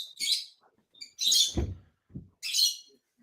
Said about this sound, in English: By the way, Jason, how many birds do you have in your room there?